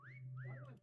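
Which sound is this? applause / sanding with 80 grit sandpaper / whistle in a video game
whistle in a video game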